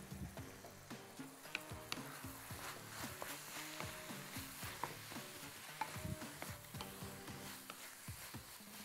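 Flour and butter sizzle and fry steadily in a pan while a utensil stirs and scrapes through them, with a continuous close crackle and no talking.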